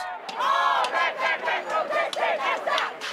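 Standing-room-only crowd at a landscaping competition in Colorado cheering and yelling together, a dense sustained roar of many voices with rising shouts, loud and continuous throughout.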